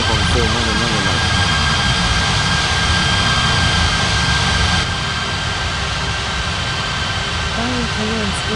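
Airliner jet engines whine and roar steadily while taxiing at Ngurah Rai Bali airport in a simulated air traffic control game, a continuous loud drone with a tonal hum, with radio-style voices talking over it.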